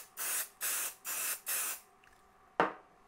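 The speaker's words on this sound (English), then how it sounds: "lay the twill upside down on it and give it a good spray" Four steady bursts of spray adhesive onto twill fabric in quick succession, close and loud, followed by a short pause and one brief final hiss.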